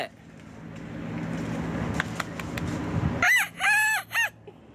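A boy from Surin, Thailand, mimics a rooster's cock-a-doodle-doo with his voice, delivering a loud crow in several stretched, wavering segments near the end. Quieter background noise with a few clicks comes before it.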